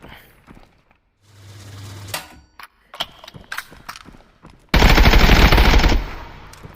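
A 5.56x45 rifle in the video game Contractors Showdown fires at an armored target: mechanical clicks and reload clatter, then a loud sustained automatic burst lasting over a second.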